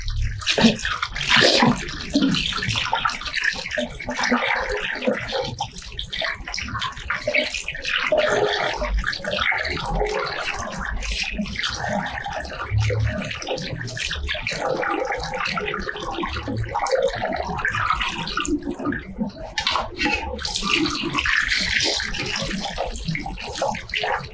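Rice being washed under running water from a tap for Chinese fried rice, a steady continuous splashing and rushing water sound close by, with light handling noises and no talking.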